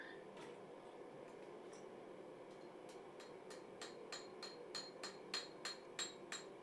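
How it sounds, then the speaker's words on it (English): Metallic hammer blows on a hot steel bar at a forge, shaping a beveled scroll, ring out in a steady rhythm, growing louder and quicker, with a faint background hum between strikes. "There you saw an errant hammer blow."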